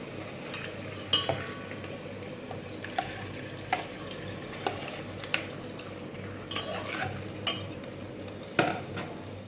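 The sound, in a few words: stirring spices in a pot before adding beef for korma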